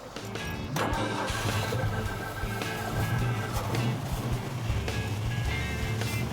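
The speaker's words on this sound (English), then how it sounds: "Did you hear that engine?" A truck engine cranks and catches, then settles into a loud, steady rumbling idle close by.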